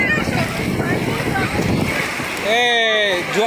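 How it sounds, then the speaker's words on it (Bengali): Big sea waves wash and roar continuously at Digha beach, loud and close, with voices calling out over the surf near the end. "বাবারে কত বড় ঢেউ এসছে"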